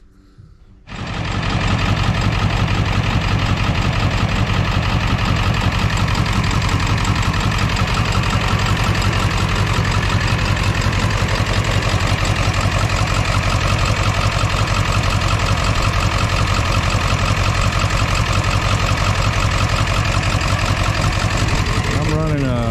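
A 2001 Ford F-450 with the 7.3 engine idles rough while running on only four cylinders. It fires up about a second in, then holds a loud, steady, continuous idle with an uneven throb right to the end.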